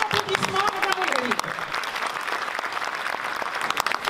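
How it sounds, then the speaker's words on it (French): A gathering marking a school's 24th anniversary breaks into warm applause for a former graduate about to speak. The clapping is loud and sustained, and a voice talks over it at the start. "Un grand applaudissement, Madame Ouleri."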